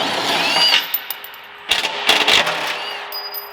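Power tools whir and rattle close by in a loud, echoing space while the factory bumper is pulled off a Ram TRX pickup, with sharp metallic bursts and ringing tones.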